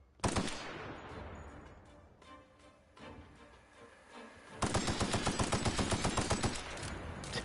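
Gunfire in The Outer Worlds video game: a loud opening shot, then scattered echoing shots, followed by a sustained rapid automatic burst with evenly spaced rattling reports, close and harsh, no voices.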